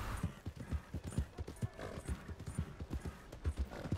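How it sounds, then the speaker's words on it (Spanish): Horse hooves clip-clop at a steady trot through a town in the video game Red Dead Redemption 2, rhythmic and fairly close with a brief whinny, no talk over it. "dentro del poblado no puede correr el puto caballo. Por supuesto, tiene que ir ahí al trote."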